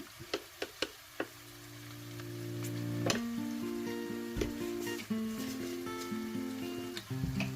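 Ingredients sauté in a pan for a South Indian salmon curry, a soft steady sizzle with a few sharp ticks and clinks of stirring near the start and later, no talk.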